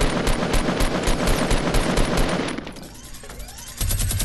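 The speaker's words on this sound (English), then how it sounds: "Minigun fights and everything!" A minigun in the Fortnite video game fires in a rapid, sustained burst of loud gunfire, then stops abruptly partway through, leaving quieter game sounds before a brief thump near the end.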